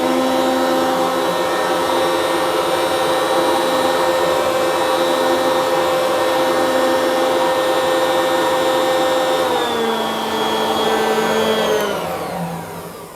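A Hyundai cordless leaf blower runs at maximum with turbo engaged, a loud steady whining fan roar with strong tonal hum that holds constant, then drops slightly in pitch near the end as it begins to wind down.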